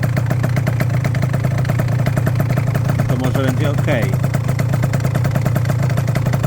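A Booster engine fitted with a new ignition coil idles steadily and loudly throughout, with a person speaking briefly over it midway.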